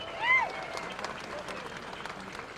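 An audience bursts into brief applause, a dense patter of clapping heard from a middle distance right after a voice.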